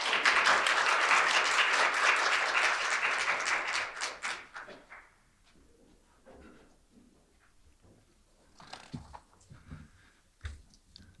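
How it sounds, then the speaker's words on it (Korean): A seminar audience applauds in a conference hall to welcome a keynote speaker; strong, steady clapping for about four seconds fades away, leaving a quiet room with small scattered handling noises. "여러분 큰 박수로 맞으시면 감사하겠습니다."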